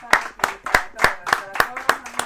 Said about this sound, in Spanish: Pues una aplauso para Sara Gutiérrez y para Eva.